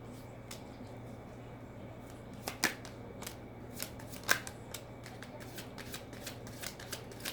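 Tarot cards shuffled by hand in a quiet room, giving a run of soft riffling flutters and sharper snapping clicks, with louder slaps near the start and middle.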